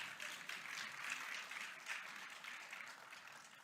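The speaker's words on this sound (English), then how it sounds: "That deserves applause." An audience at a county budget address applauds, faint and distant, a soft sustained patter of many hands from a large hall.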